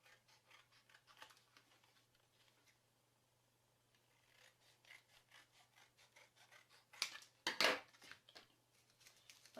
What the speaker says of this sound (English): I'm actually going to cut this with my scissors rather than a cutter